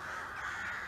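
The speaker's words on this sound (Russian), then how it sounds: "а эти черные вороны каркают" Crows caw continuously beside a lake where bread is being put out for birds, the harsh calls overlapping in a steady, fairly close chorus with no talk.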